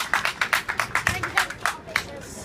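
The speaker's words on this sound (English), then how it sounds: "A round of applause, ladies and gentlemen." Audience applause rings out at a demonstration of a WW1 BSA folding bicycle: brisk, fairly close clapping from a small group, with a voice over it.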